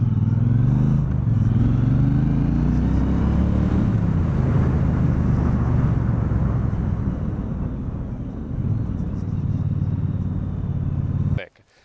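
A 2016 Triumph Bonneville T120 with a 1200cc twin engine gives off a loud, steady, deep rumble that holds throughout, then cuts off abruptly at the end.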